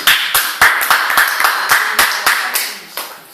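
A church congregation claps together to praise God, a dozen or so sharp, loud hand claps in a steady rhythm that slows toward the end.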